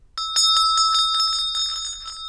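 A bronze and mixed-metal chakra bell is struck, and its bright, sustained ring sounds loud and close, with a rapid series of soft strikes over a lingering tone for about two seconds.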